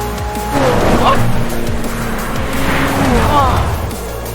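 A car driving in Forza Horizon 4 during a drifting session: an engine rises and falls in pitch with bursts of tire squeal, loud and continuous across the whole stretch. Some faint voice-like sound may sit underneath.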